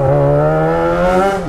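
A motorcycle engine revving outside a college, one close, loud, steady throttle hold that sags slightly at the end, heard alone.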